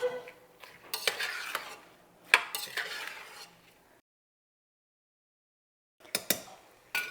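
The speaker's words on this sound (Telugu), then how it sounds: "ఇప్పుడు దీన్ని కొంచెం మీడియం ఫ్లేమ్ మీద ఇంగ్రీడియంట్స్ అన్నిటితో కలిపి ఒక 5 నిమిషాలు నిదానంగా వేయించుతాను." Pongal ingredients are stirred and fried in a pan on a medium flame, with scraping spoon strokes and clinks in bursts, a silent pause midway, then more stirring.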